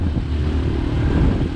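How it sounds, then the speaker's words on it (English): A motorcycle ridden through jungle at night toward Cerro Kennedy in Colombia, its engine a steady, loud, close rumble with wind buffeting and no talk. "riding a moto through the jungle at night was definitely a highlight of this experience"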